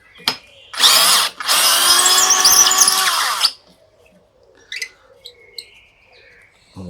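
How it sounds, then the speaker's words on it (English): A cheap small power drill whirs in two bursts, a short one then a longer steady run that winds down, followed by quiet with faint bird chirps. "The world's cheapest drill."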